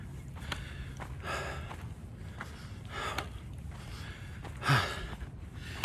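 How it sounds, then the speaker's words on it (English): Heavy, rhythmic panting of a person walking outdoors at a vacant lot, breathy exhalations recurring every second or so, close to the microphone over steady low wind rumble, with one louder gasp near the end. "this video is going to be mostly just me panting"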